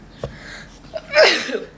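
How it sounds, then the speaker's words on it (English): A single sharp sneeze bursts out mid-clip, close and fairly loud, with a brief breathy tail after it. "I'm going to sneeze actually"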